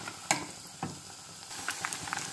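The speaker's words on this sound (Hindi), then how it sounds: "अब हम पकौड़ों को थोड़ा सा पलट लेंगे, गोल्डन ब्राउन होने तक हमें इसे पका लेंगे।" Buckwheat pakoras fry in hot oil with a steady soft sizzle, broken by a few sharp clinks and scrapes as they are turned over.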